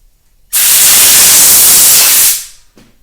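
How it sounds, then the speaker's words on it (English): Loud burst of compressed air blown into the end of an old hand grip on a Yamaha PW50 motorcycle, a close, steady hiss lasting about two seconds before tapering off. "just use a little bit of compressed air, blow on the end and pull"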